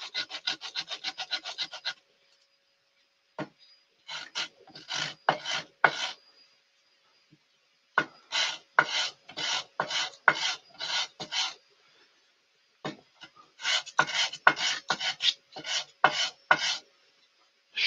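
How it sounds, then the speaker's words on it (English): Sandpaper scrubbing a wood-turned vase on a flat table: quick bursts of back-and-forth rasping strokes, crisp and close, separated by short silent pauses. "I'll go over here to my flat table and sand this"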